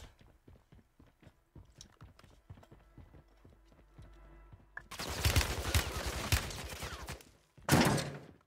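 Gunfire in the video game Call of Duty Warzone: a run of sharp footstep-like taps gives way to a loud, dense burst of rapid shots for about three seconds, then a brief second volley, with no talk.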